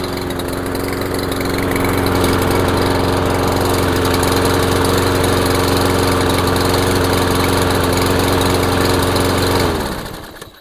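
A Toro push lawn mower engine with a newly replaced budget carburetor runs loud and steady at close range for about ten seconds after a single pull, then quickly winds down to a stop.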